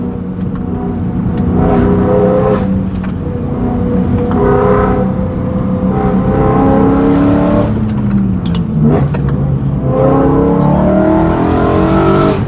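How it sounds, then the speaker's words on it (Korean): A car's exhaust booms from inside the cabin during a test drive after wheel alignment and suspension adjustment, rising in pitch through repeated accelerations and gear changes, loud and close with no talk. "이 배기음을 조금 감상하고 조금만 기다려 주십시오."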